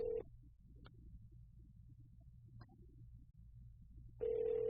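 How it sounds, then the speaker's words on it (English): A telephone ringback tone purrs briefly at the start, falls silent through a low hiss, then starts again near the end. "It's dialing. I don't hear it ring yet. There it goes. It's ringing."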